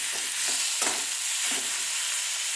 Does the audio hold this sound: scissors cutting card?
no